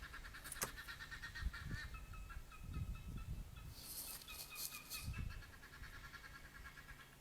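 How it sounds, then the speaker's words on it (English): Chickens cluck and squawk steadily in the background, a busy, fairly loud flock with overlapping calls and some low thumps. "Shut up, chickens."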